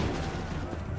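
A dense, continuous crackle of musket volley fire in Assassin's Creed 3, loud and broadband for a full second with no breaks.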